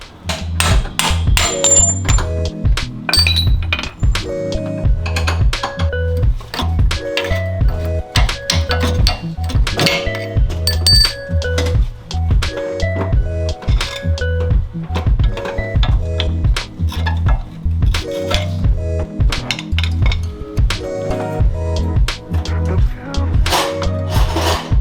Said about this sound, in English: loosen off these bolts and then take the bolts out and drop that front radius arm